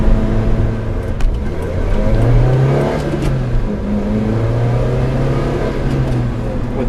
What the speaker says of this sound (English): That's high revving.